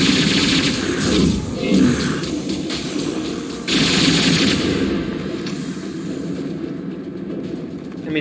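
Gunfire in the sci-fi shooter Mass Effect 2 Legendary Edition during a frontal assault on a base, rough bursts of shots and noisy combat blasts surging and fading, loud and close.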